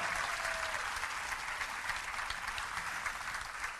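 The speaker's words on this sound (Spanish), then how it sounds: "Dale un fuerte aplauso al Señor." Church congregation applauding together, a dense, sustained wash of many hands clapping, loud and even throughout with no voices standing out.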